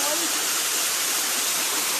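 Waterfall pouring down at an outdoor swimming spot, a dense, steady broadband rush of falling water filling the whole stretch, loud and constant.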